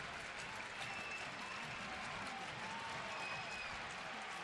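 A baseball crowd at a Twins–Indians game in Cleveland keeps up steady applause and cheering in the bottom of the 9th, a dense, even wash of clapping and voices from a large stadium audience throughout.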